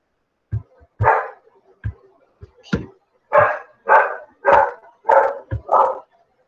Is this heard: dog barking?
yes